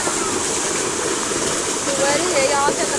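Water from a village tube well flows in a constant, close, rushing gush with no breaks, and faint voices may be present beneath it.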